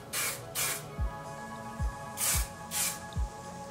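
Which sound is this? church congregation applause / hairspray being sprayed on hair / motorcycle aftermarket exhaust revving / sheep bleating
hairspray being sprayed on hair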